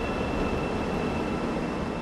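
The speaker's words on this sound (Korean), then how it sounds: "새로운 지하철이 들어옵니다. 서울역 방향으로 가는 전동차인데요." Subway train pulling into a Seoul metro station platform, bound for Seoul Station, a loud continuous rumbling roar with a faint high whine, no voices.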